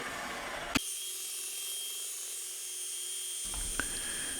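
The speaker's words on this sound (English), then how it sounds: "Deburring the 45-degree cut with the belt grinder, just making it less an injection needle." A belt grinder deburring a 45-degree cut on a machined metal part for a bioreactor feeder port gives a steady, high-pitched abrasive whine that runs unbroken through the clip, with a couple of faint knocks as the part is handled.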